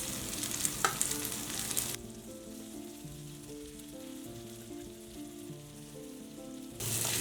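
Steamed kodubale fried and stirred in a pan give a steady soft sizzle with scraping stir strokes, louder and brighter at the start and end, with no talking.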